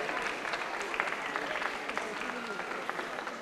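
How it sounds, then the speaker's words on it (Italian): Audience applauding a pupil who has just received a diploma at a school ceremony, steady dense clapping throughout with voices faintly mixed in. "Applausi per Lucio."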